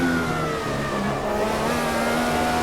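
A sim racing car accelerates as the throttle goes down, its engine holding a steady, loud mid-pitched drone with a gently rising tone and no pauses.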